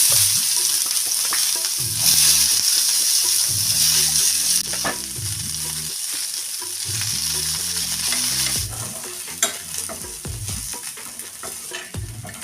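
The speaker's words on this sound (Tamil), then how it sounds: "வெங்காயமும் பூண்டு எடுத்து வச்சுருந்தோம் இல்லையா அதில் கொஞ்சம் போட்டு முன்னாடி வதக்கி எடுத்துக்கிறோம்" Chopped onion and garlic sizzle in hot oil in a pan while being stirred, a loud continuous frying hiss with repeated scraping strokes of a spatula, close up and without speech.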